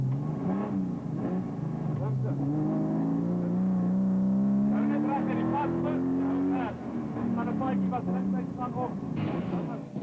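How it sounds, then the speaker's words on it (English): On board a Toyota Land Cruiser racing in the Lichtenburg 200 off-road event, the engine revs and pulls hard with rising and falling pitch through gear changes, loud and close throughout. "On board with Hendrik Reineke and Jaco van Tonda in the Toyota Land Cruiser"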